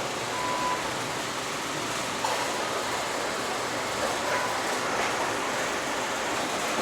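Alaska Railroad passenger train running, a steady broad rumble and hiss of rolling cars heard from on board, even and continuous with no talk.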